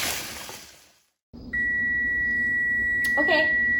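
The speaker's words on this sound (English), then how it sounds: "our timer is at 0, so that means our noodles are done" A kitchen timer signals that noodles for baked spaghetti have finished cooking, sounding a sustained, high, steady electronic tone that follows a brief burst of noise and a short silence, with some clattering near the end.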